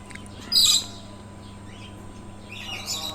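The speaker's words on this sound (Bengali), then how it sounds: "এখানে একটা পাখি আছে" A short bright bird call chirps once near the start, with faint chirping returning toward the end over a steady low hum, at a mini zoo at Mohera Zamindar Bari, Mirzapur, Tangail.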